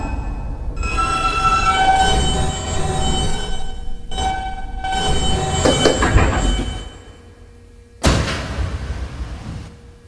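A New York subway N train of R160 cars running toward Astoria-Ditmars Boulevard, with loud rumbling motion, humming motor tones, squealing wheels and a sharp burst near the end.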